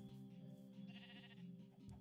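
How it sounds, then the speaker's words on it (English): A pink sheep bleating in Minecraft: one drawn-out, wavering bleat carrying on steadily at close range over a quiet game background, with no talk. "It's the pink sheep."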